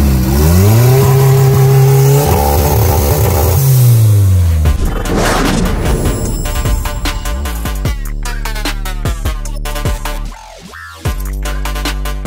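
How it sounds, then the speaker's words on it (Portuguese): A modified turbocharged VW Gol quadrado engine revs hard and loud up close, rising and falling through several throttle blips with turbo whistle and whoosh, then settling to a rough idle. "É o som da turbina."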